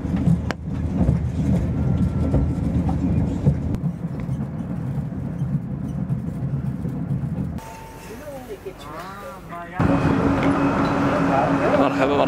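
Steady low rumble of a high-speed train riding on rails in Uzbekistan, continuous and close, with a brief quieter stretch in the middle carrying some faint tonal sounds.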